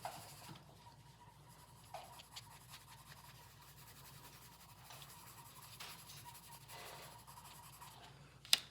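Pencil shading on paper, strokes laid down from varying angles to build a dark black area: a soft, continuous close scratchy rubbing that runs steadily for several seconds, quiet and alone, ending in one sharper tap.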